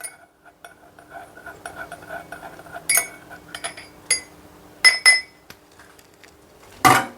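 A spoon clinks against a glass while mixing, giving a series of sharp, bright taps spaced irregularly, close and clear against near silence, ending in a louder clatter.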